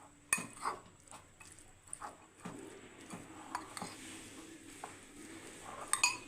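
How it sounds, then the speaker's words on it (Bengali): Corn kernels and other ingredients for cheese corn puffs stirred together in a bowl, giving soft, irregular scraping and clinking of a utensil against the bowl, fairly quiet and close, with no talking. "এগুলোকে একটু ভালো করে মিক্স করে নিতে হবে।"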